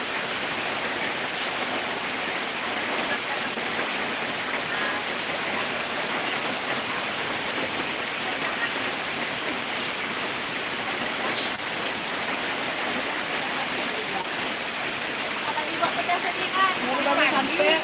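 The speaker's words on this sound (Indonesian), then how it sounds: "habis mandi langsung turun hujan." Light rain falls steadily outdoors at a tourist spot in South Aceh, producing an even, unbroken hiss of drops that continues throughout without pause.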